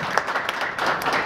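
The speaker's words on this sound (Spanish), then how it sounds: "¡Fuerte el aplauso!" A party crowd at a baby shower claps in a brief, dense burst of applause, many hands at once, fairly close and lively.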